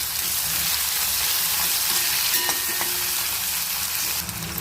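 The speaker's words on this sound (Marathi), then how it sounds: "आता कांदे टाकायचे. याला चांगले परतून घ्यायचे लाल होईपर्यंत." Onions frying in hot oil with mustard seeds and cumin, a steady close sizzle with soft crackles throughout and no voices.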